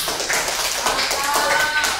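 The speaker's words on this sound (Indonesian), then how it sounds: "Tepuk tangan dulu semua." A class claps their hands together in a dense, steady burst of applause lasting a couple of seconds, fairly close and loud.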